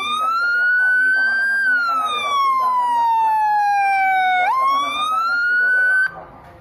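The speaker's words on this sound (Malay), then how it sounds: "ini adalah siren pemadam kebakaran" Homemade siren module built with jumpers plays a fire engine siren, a loud electronic tone sweeping slowly down and then jumping back up, with a voice talking faintly underneath.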